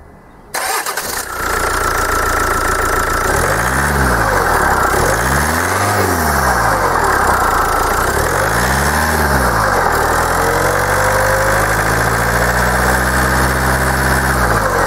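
A Bosch common rail diesel engine cranks and starts, then runs steadily and loud with a rough, knocking idle from a suspected injection system fault, alone without any talk.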